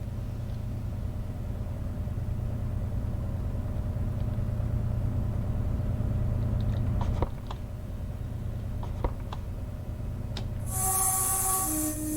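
Class 220 diesel train running in Train Simulator 2021, a steady low engine drone and rumble under braking, with faint rail clicks and a brief high chime near the end.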